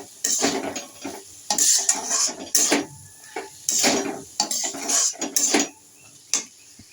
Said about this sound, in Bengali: এবার একটু আদা পেস্ট দিয়ে দিলাম দিয়ে মিক্স করে দেবো